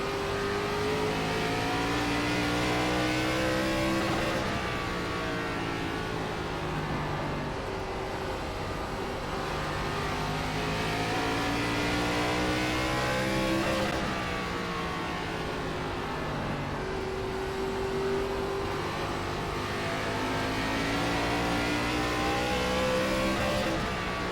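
ARCA race car lapping Nashville Fairgrounds in the iRacing sim, its engine revving up through the gears and dropping on corner entry in repeating cycles, loud and continuous, with no voices.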